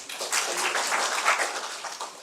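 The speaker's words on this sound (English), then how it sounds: "can you all start clapping?" A hall full of students claps together in a steady, sustained wash of applause, fairly close and even in loudness, with no other voices standing out.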